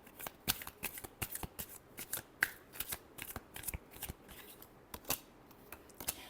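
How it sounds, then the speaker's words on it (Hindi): Tarot cards being shuffled by hand, a rapid series of crisp riffling snaps and flicks close up, uneven in rhythm and heard alone. "last shuffle"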